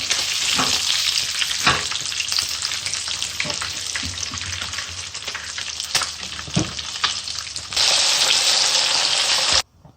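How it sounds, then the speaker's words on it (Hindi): Fish frying in hot oil gives a loud, steady sizzle that runs the whole time, with a few brief crackles and stirring noises. The sizzle gets brighter near the end and then stops abruptly. "तीन मिनट एक तरफ, 3 मिनट दूसरी तरफ फ्राई होगी।"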